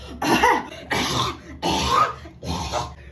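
Harsh coughing from people at home with a cold, four loud close bursts in a row, each a rough hacking fit separated by brief silences.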